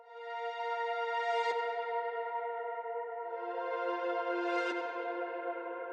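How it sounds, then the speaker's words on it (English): A reversed synth tone swells up twice, each rising into a sudden cutoff, washed in heavy reverb with a sustained tail. "The other accent is a synth that I reversed and put a bunch of reverb on."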